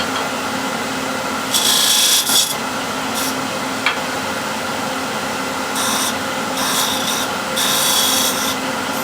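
A tool scrapes against spinning wood on a lathe built from scrap wood while a small decorative bead is turned, giving a soft rubbing hiss with several short, brighter scraping passes over a steady low hum.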